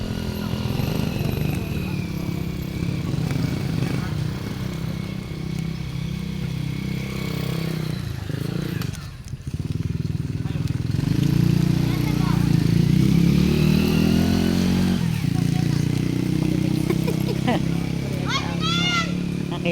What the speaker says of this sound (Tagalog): May dumadaan na mga motor-motor lang ganyan